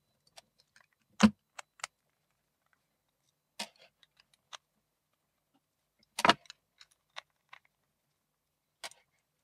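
Screws come out of the lid motor assembly on a 12-volt Xiaomi Townew T1 trash can, heard as sparse, faint metallic ticks and clinks with a couple of louder knocks against near silence.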